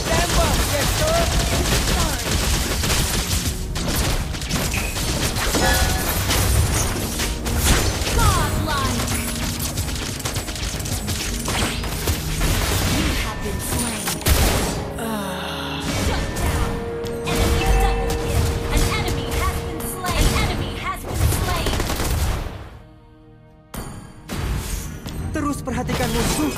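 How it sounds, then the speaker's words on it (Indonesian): Video game gunfire, dense and nearly continuous volleys of shots with crashes and impacts, loud and busy, with a brief lull near the end. "Dexter selalu siap. Tembak, Dexter!"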